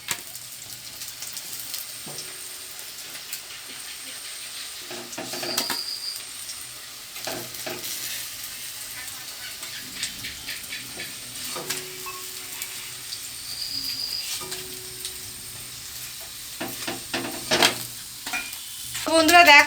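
Stuffed Malabar spinach (pui) leaf fritters fry in hot oil with a continuous crackling sizzle, broken by occasional scrapes and clinks of a utensil against the pan, close up and without speech.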